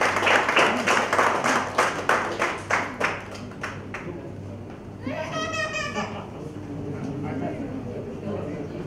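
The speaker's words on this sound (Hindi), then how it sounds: "तालियां बजाकर स्वागत कीजिए।" An audience at a literary gathering in Vidisha claps in a rhythmic, even beat to welcome an honoured guest, fading after about four seconds as voices take over.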